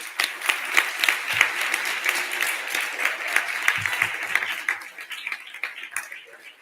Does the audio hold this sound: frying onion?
no